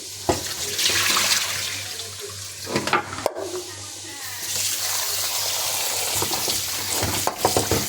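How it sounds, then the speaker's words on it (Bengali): Small eggplants are rinsed under running water before cutting, a splashing, gushing flow with handling knocks and a brief sharp clunk midway, close by in a kitchen. "বেগুন কাটার আগে ধুয়ে নিব"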